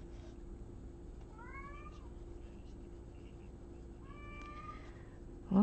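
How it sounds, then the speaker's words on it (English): A cat named Marty gives two drawn-out, rising meows a few seconds apart, moderately loud over a low steady background hum, with no talking. "come to the Marty Meow Show, starring Marty, the cat that won't stop meowing."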